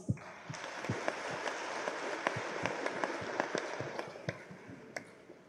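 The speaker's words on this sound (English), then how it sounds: "a warm round of applause" A congregation at a chrism mass claps for its priests, with many hands applauding steadily and a few sharp, distinct claps standing out close by, echoing in a large church.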